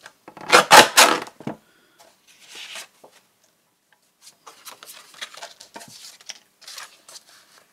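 Paper being cut by hand with scissors for a nature journal, a few close crisp snips and rustles at first, then quieter scattered scraping and handling sounds.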